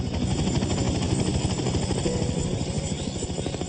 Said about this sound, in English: we heard a helicopter, and it was such a welcoming sound